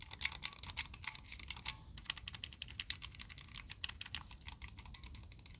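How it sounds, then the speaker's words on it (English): Micro switch buttons on a ZPG A1 Unicorn handheld device click rapidly and sharply, a dense, crisp patter of many quick taps heard up close with no talking. "The ZPG buttons are micro switch. They're very clicky with little to no travel."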